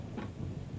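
Steady rain falling in a flight simulator cockpit, a continuous low wash of patter with no break, moderately loud throughout.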